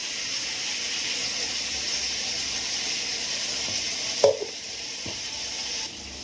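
Onions fry on a high gas flame until browned, giving a steady close sizzle and hiss throughout, with one brief clatter near the end.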